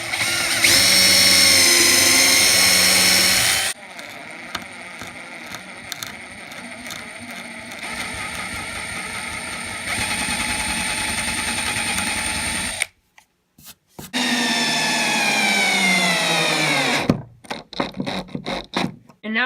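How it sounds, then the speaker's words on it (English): A power driver sinks 2-inch exterior deck screws into a cherry wood coffee table, giving loud, close bursts of high motor whine separated by short pauses and trailing off in a few quick final pulses. "I'm going to alternate driving in screws"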